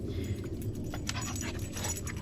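Dog moving about close by at a rural home near a creek, soft jingling of a collar tag and light panting over a low rumbling background, faint and with no talk.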